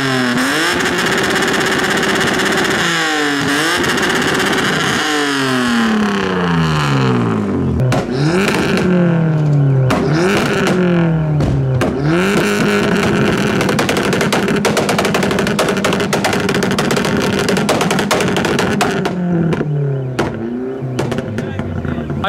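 Modified cars, including a Beetle, leaving a car meet rev hard and pop and bang with rapid crackling bursts, engines rising and falling in repeated sweeps, loud and close, under occasional voices.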